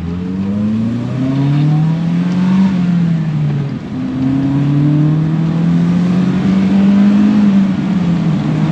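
A car engine revs high through second and third gear, its loud whine climbing steadily, dropping briefly at a gear change, then rising again in a long, sustained pull.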